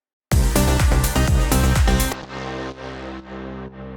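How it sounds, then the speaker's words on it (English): Synthesized drone bass effect in a progressive house track, shaped with EQ and added harmonic distortion. It enters after a punchy, rhythmic bass-and-chord section as a sustained, humming low tone that slowly fades. "Time for some drone bass action."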